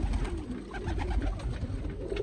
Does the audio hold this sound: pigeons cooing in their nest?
yes